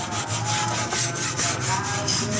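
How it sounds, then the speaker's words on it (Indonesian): Steel wool scrubbing a car dashboard to lift off built-up grime, a steady rhythmic rasping with regular strokes about every fifth of a second, close and fairly loud with no talk. "Usahakan pakai serabut kawat agar kerak-keraknya bisa terangkat"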